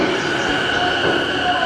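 Tokyo subway train on the far platform of an underground station: a steady, close mechanical roar with a faint high squeal, running evenly for the whole short stretch with no talk.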